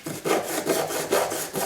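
Rhythmic back-and-forth rasping of sanding on a sterling silver pill box, steady strokes about every quarter second, close and clear with no talking.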